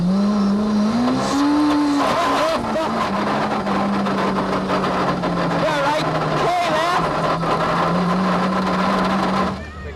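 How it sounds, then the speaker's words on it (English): Rally car on a stage of the 1996 Donegal International Rally, its engine droning and shifting pitch as the gearbox fails; a commentator talks over the loud, close mechanical noise throughout. "We're on the Fanad stage now, and suddenly the gearbox explodes."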